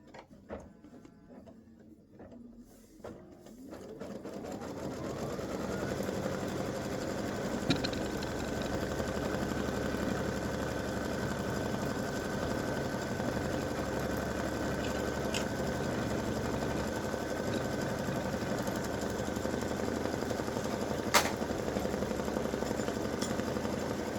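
An embroidery machine stitches the top of an elf hat in blue thread, giving a steady, fast mechanical whirring and chattering that starts up after a quiet moment and runs continuously.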